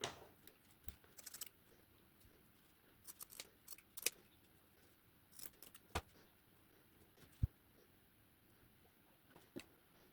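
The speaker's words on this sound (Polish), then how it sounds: "Nadwyżkę obcinam nożyczkami." Scissors trim excess felt around a small shoe shape while an Easter chicken decoration is being made, giving a scattered series of quick, crisp snips with quiet pauses between them and no talking.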